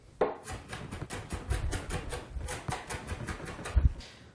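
Onion being finely minced with a knife on a cutting board, rapid even run of close chopping taps, about a dozen in quick succession, with a louder knock near the end.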